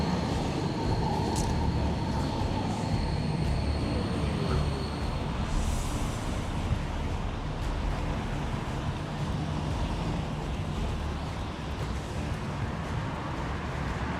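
Tram passing on a street in Karlsruhe, a steady broadband rumble of rail traffic with a faint high squeal, continuous and moderately distant throughout.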